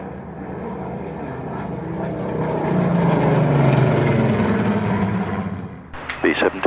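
A B-17 propeller bomber flies past at the Duxford airshow, its engine drone swelling to a loud, steady roar and then fading. A voice talks near the end.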